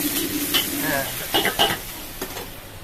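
Water splashed into a hot wok of stir-fried tofu and kale sets off a loud burst of sizzling, with a few quick stirring scrapes and short crackling flare-ups over about three seconds.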